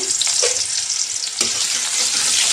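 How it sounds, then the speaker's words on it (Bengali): Onion frying in oil in a wok in a home kitchen: a steady, close, bright sizzle runs throughout with a few soft stirring clinks. "কড়াইতে বসিয়ে দিয়েছি তেল পেঁয়াজ দিয়ে"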